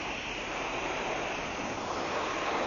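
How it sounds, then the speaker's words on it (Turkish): Water spraying over a Honda Hornet motorcycle during washing, a steady, unbroken hiss that stays loud and close throughout with no talking. "motoru yıkarken her tarafına tutuyorum ben"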